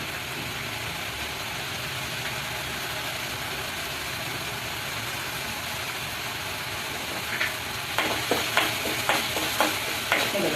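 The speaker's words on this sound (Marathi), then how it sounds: "तेल सुटेपर्यंत टोमॅटो चांगला शिजवून घ्यायचा" Tomatoes cook in oil in a pan for pav bhaji, giving a steady close sizzle and frying hiss, with a few scraping stirs near the end.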